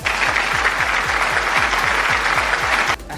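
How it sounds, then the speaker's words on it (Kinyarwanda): Loud, sustained audience applause at a Rwandan television talk show, a dense steady roar of clapping over a regular low thumping beat that runs throughout before the sound suddenly drops away near the end. "Shaba gukomera amashyi kabisa."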